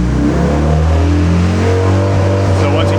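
A turbocharged D16 Honda Civic EK race car engine holds a loud, steady high-rpm drone with strong harmonics, near and continuous, with a slight rise at the end and some voices faintly underneath.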